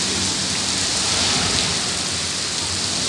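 Heavy rain pours during a Florida summer thunderstorm, a dense, even, loud hiss of drops on surfaces nearby, steady throughout with no voices.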